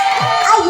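A crowd at a live singing show cheers and shouts with high whoops rising over a tonal hum, a brief loud burst of voices rather than clear clapping.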